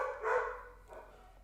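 A few short barks from dogs at home, one louder bark followed by a fainter one, moderately close with no talking.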